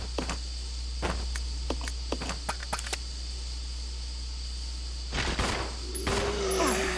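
A burst of gunfire from Resident Evil Zero: several sharp shots spaced unevenly through the first three seconds over a steady low game hum, then a denser clattering flurry near the end.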